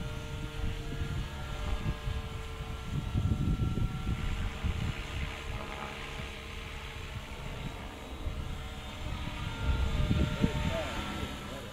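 A Trex 700E RC helicopter flies in idle up 2, its steady whining rotor and motor drone carrying outdoors with gusts of wind buffeting the microphone.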